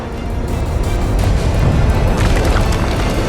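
A loud, continuous low rumbling roar of an Israeli bomb explosion in southern Beirut, dense and sustained without pause, with no voices.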